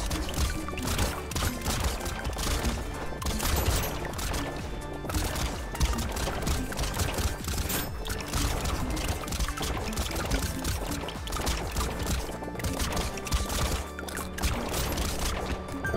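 Dense, continuous rapid-fire shooting from the Buccaneer character in Brotato, a steady wall of overlapping shots and impacts with no pause, loud and busy throughout.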